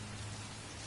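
Steady rain in the video game Heavy Rain, a dense even hiss of falling drops with a low hum beneath, alone and constant throughout.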